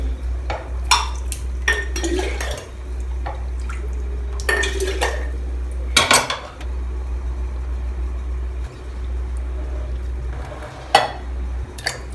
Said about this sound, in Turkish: Şimdi ben bu kavanoza birazcık tuz ve peynir altı suyu, biraz da peynir altı suyu ekliyorum.